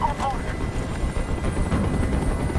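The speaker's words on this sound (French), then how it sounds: "Je peux plus supporter ce bruit. Fais dégager cet hélicoptère" A helicopter hovers in the video game Detroit Become Human, making a steady, loud, close rotor drone that never lets up, with voices talking over it.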